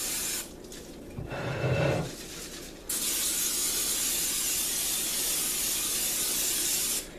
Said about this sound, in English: I generously just spray, just to make sure the potatoes don't stick to the sides or whatever